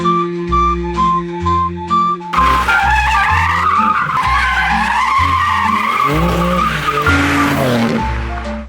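A BMW 3 Series engine revs hard and roars through gear changes while tires squeal and skid in long, loud screeches.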